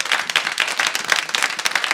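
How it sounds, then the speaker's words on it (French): A Methodist church choir applauding its own liturgical performance, a dense burst of many hands clapping steadily and close for the whole moment. "Allez-y, applaudissez vous-même"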